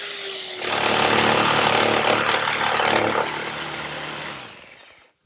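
A power saw cuts the knee-hole cutout in an oak Mission-style desk, a loud steady whine held for about four seconds before it winds down and stops, with no talk.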